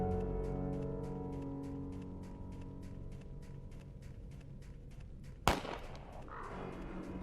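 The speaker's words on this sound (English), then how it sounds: "Gunshot." A single sharp gunshot rings out in the video game Deer Man. It breaks through a quiet background of low hum and faint rapid ticking, and a short fading tail follows it.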